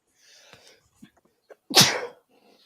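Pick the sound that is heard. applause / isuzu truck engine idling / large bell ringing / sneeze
sneeze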